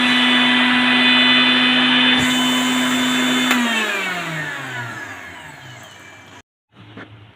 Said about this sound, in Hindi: तिलकुट बनाने के लिए हमने एक मिक्सी के जार में तिल को ले लिया है। अब इसको हम पीस लेते हैं।